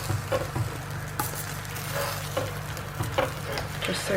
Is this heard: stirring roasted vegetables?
yes